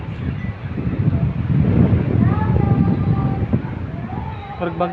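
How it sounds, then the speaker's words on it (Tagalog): Strong wind and heavy rain from Typhoon Aghon roar as a dense, loud broadband rush, with a siren-like wavering tone and a person talking over the storm. "Sobrang dami ng sobrang lakas ng ulan at hangin."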